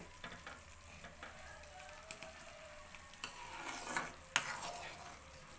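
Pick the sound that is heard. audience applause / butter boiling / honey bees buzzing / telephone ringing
butter boiling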